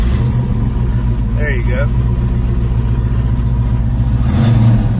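A 1971 Ford Boss 351 V8 runs close by with a deep, steady rumble that rises slightly near the end, while someone briefly speaks over it.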